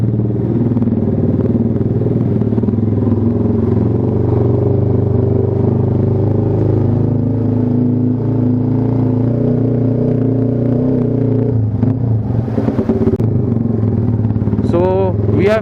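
A motorcycle rides over a rough, broken road in Tangra, Kolkata, its steady loud engine drone mixed with wind and some talk, then rattles, clatters and scrapes from bumps near the end.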